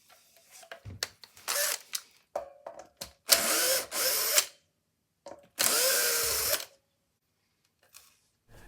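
A power screwdriver drives screws into the pickguard of a Squier Stratocaster electric guitar, with several short whirring bursts of varying length separated by quiet pauses and small handling clicks, recorded up close with no talking.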